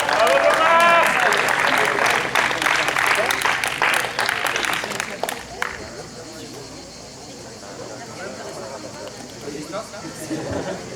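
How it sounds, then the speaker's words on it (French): An audience applauds a man named Jean-Marc at a trophy ceremony for the 2015 Aix international tournament, with dense clapping for about five seconds before it fades into room murmur and chatter. "Vous pouvez l'applaudir quand même parce qu'il fait un travail incroyable"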